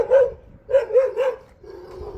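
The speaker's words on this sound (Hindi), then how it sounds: "बाकी ये देखो यार भौंकते रहते हैं भाई" Dogs barking close by, a single bark followed by a quick run of three barks and a lower trailing whine, loud with no talk.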